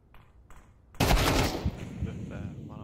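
A loud burst of gunfire in Counter-Strike 2 erupts after a second of quiet and rattles on briefly before fading into background game noise.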